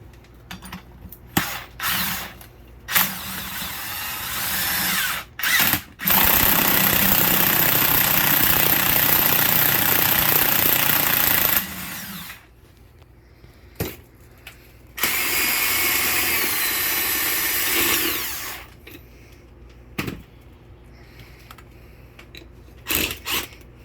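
A cheap impact gun unbolting a 2003 Honda Accord transmission during teardown, with two long loud whirring bursts separated by short rattling hits and pauses in between.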